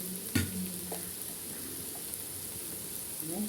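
Bread-roll filling sautés in a pan with chili powder, turmeric and garam masala, a continuous soft sizzle with a sharp stir scrape near the start and a few lighter stirs after.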